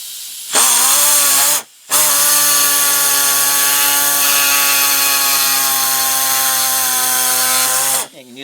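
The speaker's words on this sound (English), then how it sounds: "All we got to do is cut these little tabs out" Small body tool cutting plastic tabs inside a 2007-2013 GM truck during a speaker install, a loud sustained high whine that starts abruptly, stops briefly once, then resumes steadily before cutting out.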